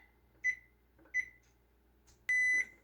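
A kitchen oven timer beeps twice in short tones, then sounds one longer beep, clear and close in a quiet room while pizza bombs bake at 350 degrees.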